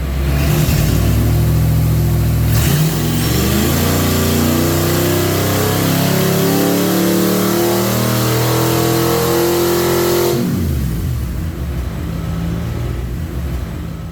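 A 1993 Ford 5.0 small-block V8 on a dyno revs loudly and close up through a sustained pull of about ten seconds, then drops sharply back toward idle.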